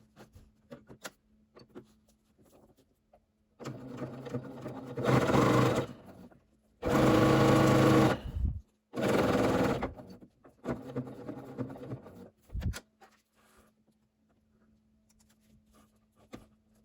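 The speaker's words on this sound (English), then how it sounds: "Here I am just sewing those two pieces of fabric together" A home sewing machine stitching two pieces of quilting fabric together for a quilt-as-you-go coaster or potholder: a few short and medium bursts of motor hum and needle chatter, close and moderately loud, between quiet stretches, with no talking.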